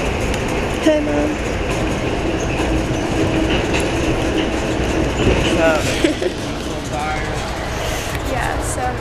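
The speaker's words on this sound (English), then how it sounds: "The train's so loud back there." Steady rumble and rattle of a moving train heard from inside a passenger car, a dense continuous roar with occasional clacks and brief squeals, with someone talking over it.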